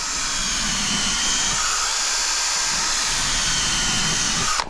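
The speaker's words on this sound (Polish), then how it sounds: "nawiercam" A power drill boring holes into wooden deck boards while a garden-plot platform is being rebuilt, a continuous loud whine held close for several seconds and then stopping abruptly.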